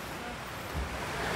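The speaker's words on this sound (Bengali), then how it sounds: "জলের আওয়াজ পাচ্ছ? এখানে একটা ঝর্ণা রয়েছে" Water rushing at a waterfall along a hill trek near Pareshnath, a steady broad roar with a slight swell midway, moderately loud and continuous with no voices.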